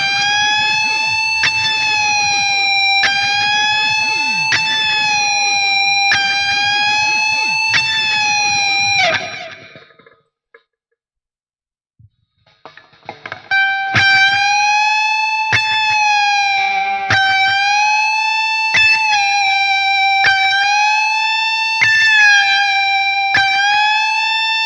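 Distorted electric guitar played through a BOSS GT-5 multi-effects unit with an impulse-response cabinet, giving loud, sustained lead notes with bends and vibrato in two phrases split by a brief silence.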